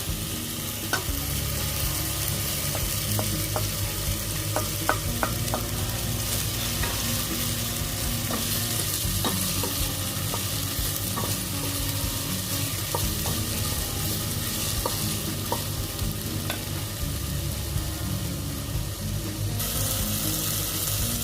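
Tomato and garlic sautéing in a pan, with a loud continuous sizzle broken by repeated sharp clinks and scrapes of stirring.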